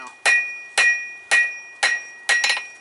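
A 1 3/4 pound cross peen hammer forging hot steel on an anvil, five sharp ringing blows at a steady rhythm about half a second apart, close and loud with bright metallic ring between strikes, no talking.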